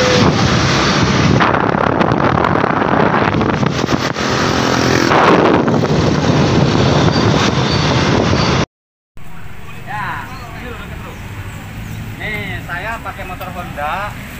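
A Honda motorcycle on the move, with steady engine and heavy wind rush roaring continuously up close, briefly cutting out before resuming more softly under background sound.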